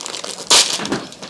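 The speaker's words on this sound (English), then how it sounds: "Now let's open up our first blind bag." Plastic blind bag torn open at a toy unboxing: close crinkling and crumpling with one sharp ripping burst in the middle, brief and near.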